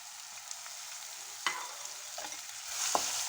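Finely chopped onion frying in a pan for Punjabi-style sarson ka saag makes a bright, steady sizzle broken by a few scraping stirs of a spoon.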